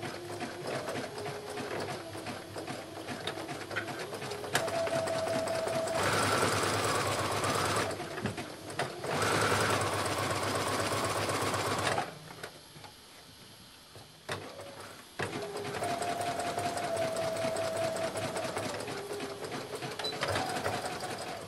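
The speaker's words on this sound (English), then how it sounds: "now we're going to take this to the sewing machine and we are going to zigzag stitch right along here at 5/8 inch" A sewing machine runs zigzag stitches along a 5/8-inch reinforcing seam on swim shorts, with steady mechanical whirring in several bursts separated by brief pauses, close and fairly loud.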